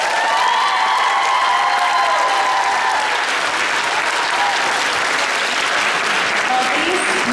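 A live concert audience in Rīga gives sustained, dense applause with some cheering, loud and steady throughout.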